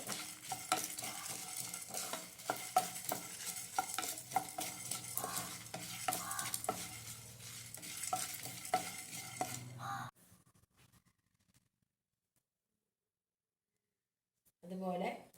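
Chilies and spices roasting in a pan, dry sizzling under steady rhythmic stirring and scraping with a spoon, close up, cutting off abruptly before a short final clatter.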